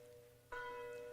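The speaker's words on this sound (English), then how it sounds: "You're going to hear a original Paul Revere bell playing from a church in Bridgewater, Massachusetts" An original Paul Revere church bell in Bridgewater, Massachusetts is struck once, a sudden loud clang that rings on with a rich, humming cluster of overtones.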